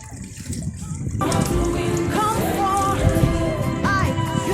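Water flows steadily from an old water source in Ukamani, Machakos, Kenya, a continuous close trickling and splashing that strengthens after the first second, with a voice briefly audible over it.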